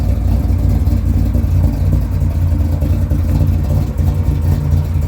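A 1954 Oldsmobile 88 fitted with a 572 engine, a lumpy cam and dual Flowmaster-style exhaust rumbles loudly and steadily up close, with deep low throb and no talk over it.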